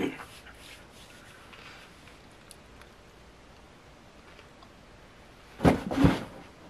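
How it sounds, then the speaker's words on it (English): A cat jumps into a box, making a pair of quick, muffled thumps and rustles close by after a stretch of quiet room noise. "That noise you heard was a cat jumping into a box."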